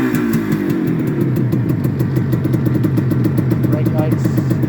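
A Benelli 250 2C two-stroke motorcycle idles nearby with a loud, steady, uneven burble that continues throughout, with no speech over it.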